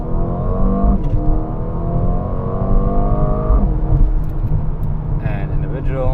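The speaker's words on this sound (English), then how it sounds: "So maybe we can do a little acceleration run here." Mercedes-AMG CLA35 4MATIC launching from a race start, the engine roaring loudly up through the revs in rising sweeps with a brief gear shift dip partway, close and continuous.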